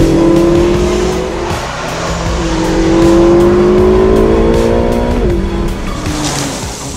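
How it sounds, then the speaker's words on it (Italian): A Ferrari California T with a turbocharged V8 pulls hard under acceleration, its engine note rising steadily and loud with a brief gear-change dip, a short tire squeal near the end. "stiamo sfruttando principalmente le doti di ripresa del nuovo V8 Ferrari"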